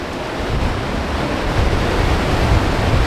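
A waterfall rushes hard in snowy winter Michigan, with heavy water flow after a thaw making a loud, continuous roar that holds steady throughout.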